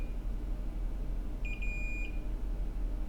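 A multimeter gives a short continuity beep while probing an iPhone 6s backlight circuit, a steady clear tone lasting under a second against a quiet room hum.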